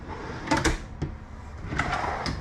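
A few quick wooden knocks and soft slides of soft-closing drawers being pulled open and pushed shut inside a luxury RV, close by and fairly quiet.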